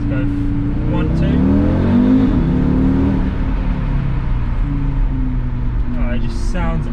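Audi RSQ3 engine pulling hard under acceleration, a loud rising rev heard from inside the car, swelling then easing with a second climb, while a voice talks over it.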